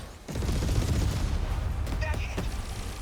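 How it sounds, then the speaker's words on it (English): Armor piercing cannons fire in the 13 Sentinels: Aegis Rim video game, a dense rumbling barrage with crackling bursts that runs steady and loud throughout, with a few sharper impacts near the end. "Armor piercing cannons."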